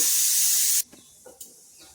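Mustard oil hitting a hot kadai, a loud close spitting hiss that stops suddenly, followed by a few faint clinks and small sizzles.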